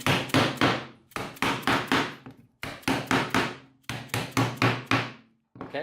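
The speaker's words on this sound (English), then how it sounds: "then from there you just hammer them in place" Hammer blows seat PVC pipe connectors onto plastic tubing for a filament storage rack, struck in quick bursts of three to five sharp knocks with short pauses between, close and loud, with no voices.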